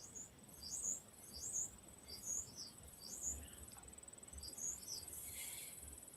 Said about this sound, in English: Do you hear the bird in the background?